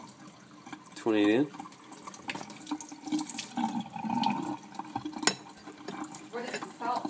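Tap water runs over 14C28N and AEB-L steel test pieces being rinsed during corrosion testing, a steady splash mostly beneath a person talking.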